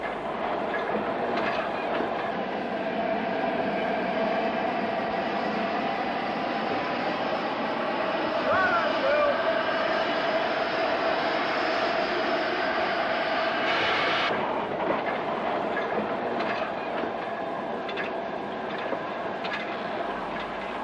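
Steam locomotive 45020 creeping cautiously over treble slip points at a junction, a steady, continuous rumble and rolling clatter with a faint squeal, sustained and fairly close throughout, with no voices.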